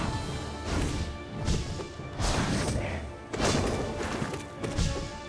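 Nail strikes against the Grimm boss in Hollow Knight, a run of sharp slashing impacts and crashes repeating quickly over a busy, continuous game soundtrack.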